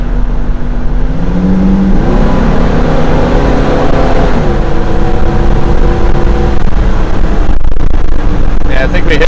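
A 1972 Buick GS Stage 1 engine revs to about 4,500 RPM, a loud, sustained droning roar whose pitch climbs, holds and shifts while the car is under way.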